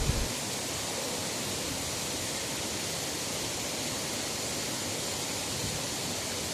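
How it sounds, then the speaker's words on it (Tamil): A continuous roar of rushing water from a waterfall in the Pothigai hills, steady and full-bodied, with no voices or other sounds breaking through. "இப்போது அருவியின் குரலை கேளுங்கள்"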